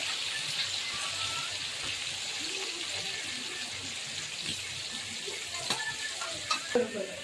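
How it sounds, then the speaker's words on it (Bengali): Steady sizzling of onions frying in hot oil, a continuous bright hiss with occasional stirring clinks and scrapes near the end. "পেঁয়াজটা দেওয়া হচ্ছে পেঁয়াজটা একটু লাল লাল করে একটু ভাজা হবে"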